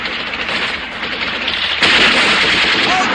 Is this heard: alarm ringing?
no